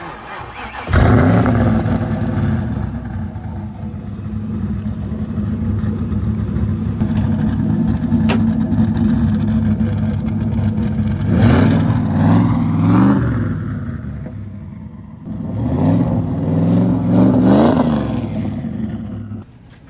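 A car with a cammed 331 stroker engine runs loud and close, holding a rough, lumpy rumble before two strong revs swell and fall back toward the end.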